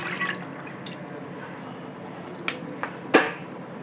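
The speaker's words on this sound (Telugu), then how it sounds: "కూర ఉడుకుతుంది." Curry simmers in a pot on a home gas stove, a soft bubbling bed broken by a few distinct pops and drips near the end.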